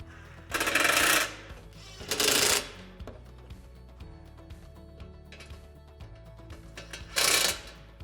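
A drill with a Phillips bit, backed by vice grips, tightens hardware on a Lifetime 8' x 7.5' outdoor storage shed, giving three short loud whirring bursts separated by quiet pauses.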